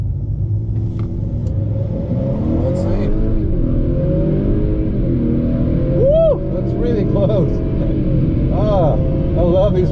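A V8 Ford F-150 pickup staging and racing at a track day gives a loud, steady engine roar with shifting pitch as it revs and accelerates, heard up close alongside other track noise and shouting.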